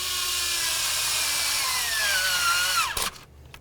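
A power tool with a 10 mm socket drives bolts on a Dodge Journey, a loud, close, high whine that climbs in pitch for about three seconds before stopping abruptly.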